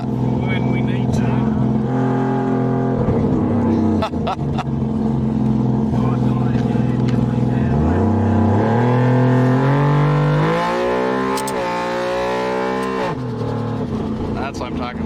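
A car engine with its exhaust cutouts open roars loudly, idling with a deep rumble and then revving up in rising sweeps before settling, while people talk over it.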